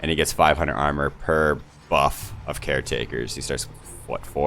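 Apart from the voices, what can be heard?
No everyday noises stand out.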